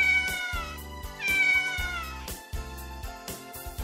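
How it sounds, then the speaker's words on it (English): A cat meows twice in quick succession, clear and close, over steady background music. "cat."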